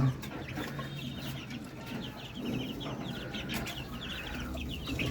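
Hens cluck and chatter on a veranda in a steady, close run of short, repeated calls. No voices.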